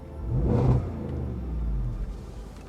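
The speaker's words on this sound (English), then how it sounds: "you hear the supercharger going, of course that amazing exhaust burble" A 2019 Jaguar F-PACE SVR's supercharged engine gives a deep, rumbling exhaust burble that rises and falls with a revving swell, steady low throb throughout, heard up close with no talking.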